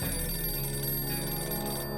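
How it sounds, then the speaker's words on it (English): A telephone ringing in the survival video game 60 Seconds Reatomized, a steady electronic ring that repeats without a break before cutting off at the end, with no voices. "That's a phone ringing."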